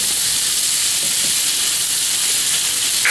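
Ground meat browning in a hot pan fills the scene with a loud, constant hiss of sizzling fat, a bright steady crackle without pauses or speech.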